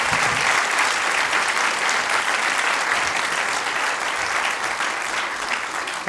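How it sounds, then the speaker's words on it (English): An audience at a Gita Jayanti gathering at Bhaktivedanta Manor keeps up steady, dense applause, loud and even from start to finish, with no voices standing out. "Yes, please continue giving a round of applause."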